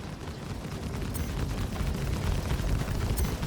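In the Star Citizen space game, ship weapons pound against the shields of a Carrack, producing a dense, continuous rumbling barrage of crackling impacts at moderate volume, with no voices over it.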